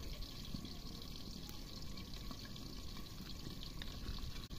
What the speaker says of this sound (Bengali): দিয়ে দিচ্ছি তেল